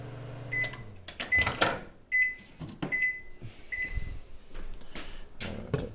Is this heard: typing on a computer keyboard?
no